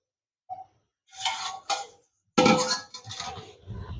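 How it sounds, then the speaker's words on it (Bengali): A basin used as a lid is lifted off a pot of cooking broken rice. A few short metallic clanks and scrapes follow, with brief quiet gaps between them. "এখন ঢাকাটা খুলে দেব।"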